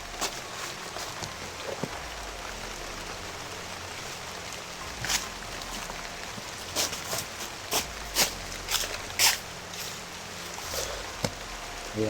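Heavy rain falls steadily as a dense hiss outdoors, with scattered sharp taps and knocks of drops striking nearby surfaces, fairly close and continuous.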